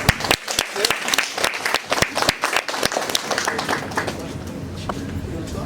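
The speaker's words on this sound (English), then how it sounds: "my huge round of applause again" A group on a 2018 school trip to York gives a big round of applause, busy and close at first, then settling into a steadier wash of clapping with voices mixed in.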